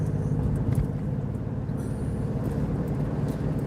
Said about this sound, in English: Is that car making that noise?